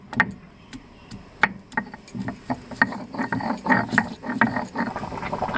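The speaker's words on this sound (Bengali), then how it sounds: "আমি এবার আদাটা বেটে নেব।" Ginger is ground into a paste by hand: close, rhythmic knocking and scraping strokes repeat unevenly, fairly quiet, with no talking over them.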